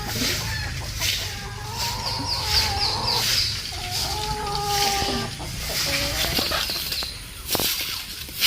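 Backyard chickens cluck and call near the listener around their feed, with drawn-out hen notes and occasional flapping over a constant outdoor background.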